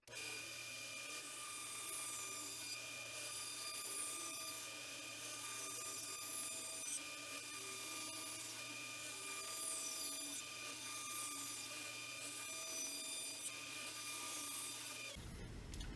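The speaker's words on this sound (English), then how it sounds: "I have a bandsaw, so that's what I'll use to cut it." A bandsaw cuts scrap wood pieces for a tic tac toe board, giving a steady, loud, close whine with a constant hum that runs the whole time before stopping abruptly at the end.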